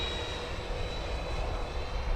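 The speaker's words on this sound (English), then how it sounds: "I'm at about half throttle here, guys." An HSD Viper Jet RC model with a 75mm ducted fan on 6s power roars steadily at about half throttle in flight, a constant broadband whoosh with a thin whine, loud and unbroken, with no talking.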